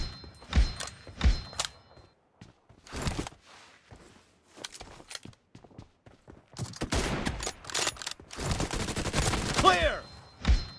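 Gunfire in the mobile battle royale game PUBG Mobile, played in a team deathmatch room: sharp bursts and rapid volleys of shots, several loud clusters separated by brief pauses, with a heavier sustained barrage toward the end.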